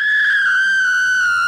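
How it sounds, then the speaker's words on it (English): Wendy, a character in a Plotagon animation, lets out a sustained, piercing high-pitched scream lasting over a second, loud and close, slowly sliding slightly downward in pitch before cutting off. "Did you hear Wendy screaming?"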